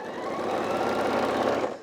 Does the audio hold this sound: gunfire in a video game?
no